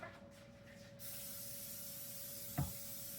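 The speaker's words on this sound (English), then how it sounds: "And if I could find my spray, I'd spray." Pam cooking spray hisses steadily from a can as a baking pan is greased, a close, quiet continuous spray. A small knock sounds partway through.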